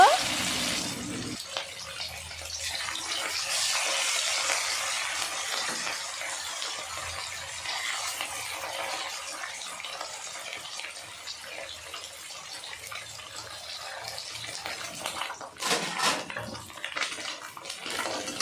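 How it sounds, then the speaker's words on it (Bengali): Rohu fish pieces coated in salt and turmeric fry in hot oil with a long, steady sizzling hiss, joined near the end by a few clatters of utensils. "তেল গরম হয়ে গেছে নুন হলুদ মাখানো মাছের পিসগুলো ভেজে নেব"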